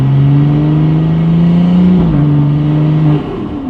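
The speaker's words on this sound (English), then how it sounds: "the induction noise that this turbo makes is just, it's insane" A turbocharged car engine revs hard and close, its loud, sustained drone climbing, then dipping briefly before holding and settling back, with the turbo's induction whine layered over the engine note.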